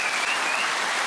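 Clapping from an audience member at a comedy panel show, a steady dense patter of hand claps filling the short moment with no talk over it.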